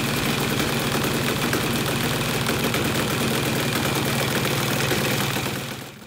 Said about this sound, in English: got the paramotor running.